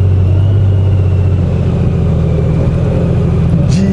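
A six-cylinder car engine drones steadily from inside the vehicle while driving toward Tanzan Shrine, a deep, even rumble with a slight rise in pitch near the end.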